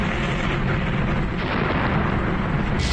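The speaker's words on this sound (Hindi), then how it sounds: "तभी एक भयंकर विस्फोट होता है" A violent explosion during an attack on Kuwait airport near Terminal 1, heard as a loud, sustained roar of blast and rumbling debris that fills the whole moment without letup, with no voices.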